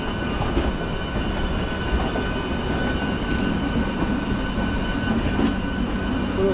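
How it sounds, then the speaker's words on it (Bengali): Local and express trains leave Howrah together with a steady, rumbling roll of wheels on rails. Soft clicks and faint squeals recur over several seconds, close and continuous, and no one speaks. "লোকাল ট্রেন আর এক্সপ্রেস ট্রেন একই সঙ্গে বেরোচ্ছে"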